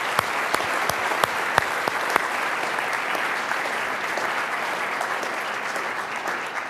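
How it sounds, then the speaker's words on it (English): Sustained audience applause at a city's State of the City 2018 address, steady dense clapping from a large crowd throughout with a few sharper individual claps standing out near the start. "please join me in giving them a big round of applause"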